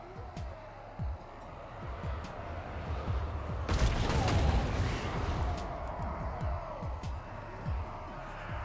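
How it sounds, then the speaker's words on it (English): Missile volley striking units massed on a castle wall in a Total War battle, a rising crackling burst of many impacts and whooshes amid scattered sharp clicks and rumble, loudest midway then fading back. "Another volley on these concentrated units on the wall."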